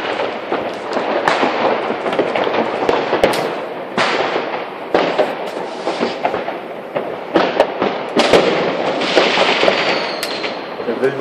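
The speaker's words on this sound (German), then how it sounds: "Hier ist ein Böller. Kanonenschlag." Kanonenschlag firecrackers and fireworks go off on New Year's Eve, with loud, dense sharp bangs and crackling bursts filling the whole stretch, some very close, while voices talk underneath.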